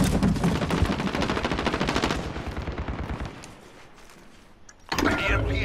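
Rapid automatic gunfire from a Call of Duty: Modern Warfare multiplayer match, dense and loud bursts for several seconds, thinning out, then a sharp loud burst near the end, with a player talking.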